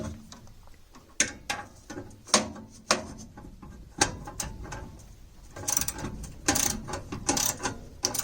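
Screws are loosened on the burner plate of an American Standard Ameristar 60k furnace, giving faint ratcheting clicks and metallic ticks in an irregular series. Soft handling noises sit between the clicks.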